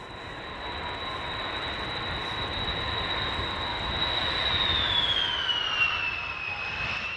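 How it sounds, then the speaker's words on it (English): A jet airliner arriving on the runway makes a sustained engine roar with a high whine that holds steady and then drops in pitch. The sound is moderately loud and distant, with no voices. "Lily's plane comes out of the sky and onto the runway at 12:43"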